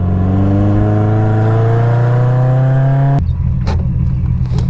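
Mazda Miata engine with an aftermarket cam running loud and close, revving up in a smooth rising sweep, then dropping off sharply back to a lumpy, choppy idle.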